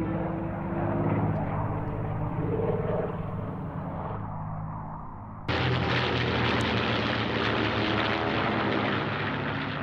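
A North American airplane flies in a demonstration, its propeller engine droning steadily and loud before a sudden jump to a harsher, brighter roar as it passes close.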